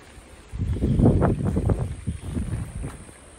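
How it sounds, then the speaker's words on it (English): Gusty wind after a storm blows across a pepper garden with tall jalapeño plants, rising into a loud, rough buffeting burst before easing off, close to the microphone. "Wind is still blowing."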